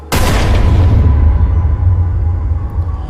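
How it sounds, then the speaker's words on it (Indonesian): Hard pounding on a back door lands as one heavy, booming impact, then a long low rumble that slowly fades. It is loud and close, with nothing else heard. "Ketukan berubah jadi hantaman keras."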